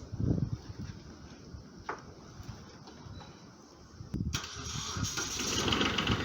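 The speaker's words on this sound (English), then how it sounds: "Got the tractor out." A tractor engine turns over and fires up outdoors, with a few scattered knocks before a hissing mechanical roar builds and holds steady toward the end, moderately close.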